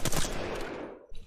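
Carbine fire in Apex Legends training: a quick burst of loud, close gunshots at the start, decaying into a noisy tail with a softer shot near the end.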